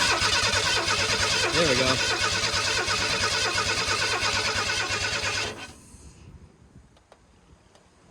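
A 1991 Ford F-150 engine under restoration runs with a steady mid-pitched rumble for about five seconds, then shuts off abruptly into near quiet, with a brief spoken remark.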